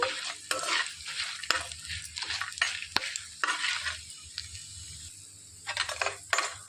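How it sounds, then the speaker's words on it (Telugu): Peanuts dry-roasting in a pan on a low flame for a ridge gourd and coconut chutney, with repeated scraping stirs and light clinks of a spoon against the pan over a soft, steady sizzle. "మాడిపోకుండా సన్న సెగ మీద వేయించుకోవాలండి"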